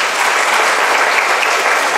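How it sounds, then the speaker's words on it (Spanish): Loud, close, dense applause from an audience honoring a physical education director at an aquatic program event, a continuous even roar of many hands clapping at once. "yo pido un fuerte aplauso para Guille"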